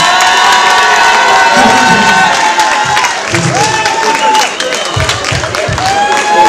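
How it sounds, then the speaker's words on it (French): A crowd cheers loudly and shouts for a young designer at an international women's evening fashion show, with a few claps and excited voices mixed into a steady, dense roar. "s'il vous plaît les DPU, à donner un applaudissement pour le créateur, le jeune créateur très talentueux, Idriss Jonas"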